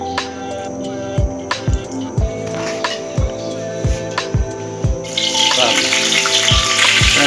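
Fish pieces for a devilled fish dish fry in oil. Partway through, a loud, steady sizzling hiss starts over a rhythmic thumping beat.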